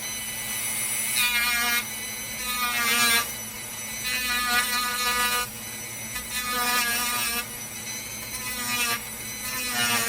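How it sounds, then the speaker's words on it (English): A Dremel rotary tool grinds at a pin in a pocket knife under repair, whining in repeated bursts that rise and fall in pitch as it bites into the metal, loud and close throughout. "I'm going to use the Dremel this time."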